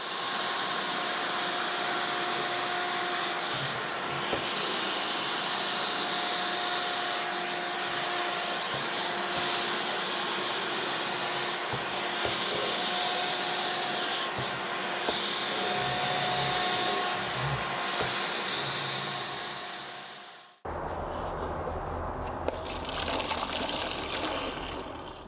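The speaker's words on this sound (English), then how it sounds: "let me see how well does it suck up all the water that is here" A DIY shop vac converted into a carpet extractor roars loudly and steadily while slurping up water from carpet, with gurgling, gushing suction throughout before an abrupt drop in tone as the intake shifts near the end.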